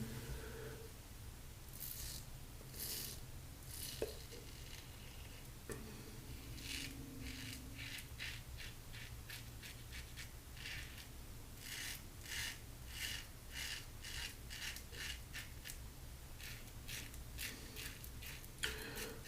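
A razor shaves across the grain over a lather of Barrister and Mann Rhapsody shave soap, making quiet, close scratchy rasps in a run of short, regular strokes.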